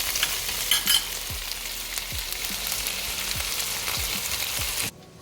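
A steak sizzles loudly and evenly in a hot pan, a dense continuous frying hiss that cuts off abruptly near the end as the heat goes off.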